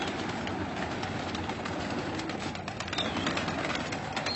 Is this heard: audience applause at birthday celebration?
no